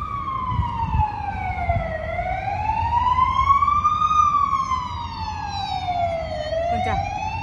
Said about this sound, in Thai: เสียงรถตำรวจ